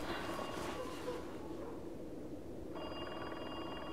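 A telephone rings indoors in a steady, faint electronic trill that runs under a low background hum, with no voices over it.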